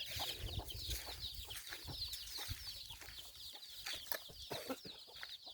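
Chickens clucking and squawking nearby, with busy overlapping calls and some rustling, no talk.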